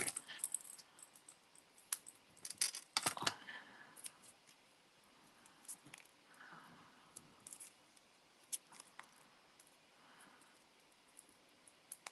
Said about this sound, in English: I'll just put one and cut it in half